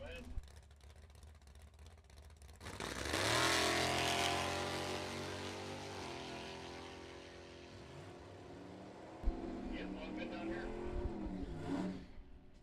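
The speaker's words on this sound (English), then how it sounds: "99 Racecraft dragster, 496 big block in that car." A drag racing dragster with a 496 big block engine at a bracket nationals meet roars up loud, holds a long rising howl, then drops and revs again, with an announcer talking over it.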